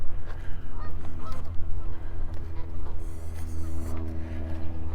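Geese honk repeatedly by a lake during an August walk in Regina, loud, close calls overlapping in irregular bursts over steady low outdoor rumble.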